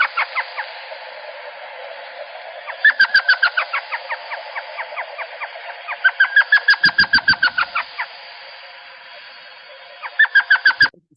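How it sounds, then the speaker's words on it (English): An elf owl pair duets: the male gives bursts of rapid, laughing yelps while the female answers with mew calls. Several clear, close bouts stand out over a steady hiss of night insects. "A lot of owls do this where the male and female will duet together."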